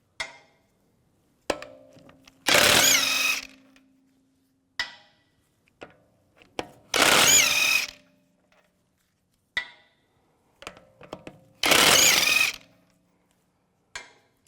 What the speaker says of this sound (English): Now take the wheel off, use a 17mm socket. Take these lug bolts off.